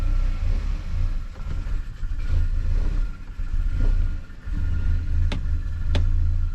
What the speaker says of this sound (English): car's barely running with that intercooler